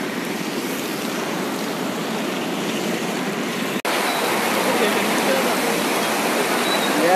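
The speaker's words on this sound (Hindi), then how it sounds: "आप देख सकते हैं कितना तेजी में पानी जा रहा है।" Fast-flowing floodwater after heavy rain in a town rushes in a steady, loud broadband roar, close and continuous, with one brief break partway through.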